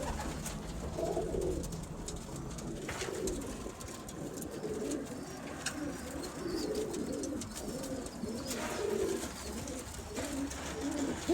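Birmingham Roller pigeons, young squeakers and breeders, coo softly in a loft during breeding season, low repeated murmuring calls layered over a faint steady background hum.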